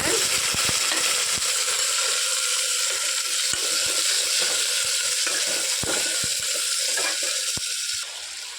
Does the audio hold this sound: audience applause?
no